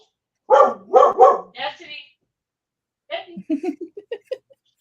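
A dog lets out three loud, close barks in quick succession, then after a pause a run of quicker, smaller yips fading toward the end.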